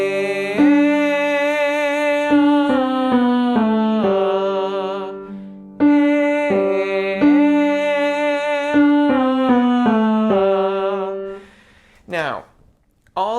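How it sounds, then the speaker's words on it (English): A sung perfect fifth for altos, repeated in short sustained two-note phrases with clear pitch steps, loud and close, ending with a brief upward vocal slide. "We are going to start with the interval of a perfect fifth."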